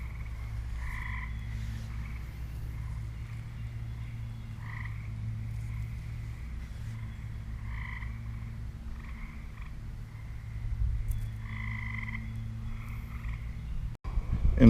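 Tree frogs croaking on a hot, roughly 80-degree day form a steady chorus of repeated rasping calls over a constant low hum, moderately distant, with a sharp click just before the end.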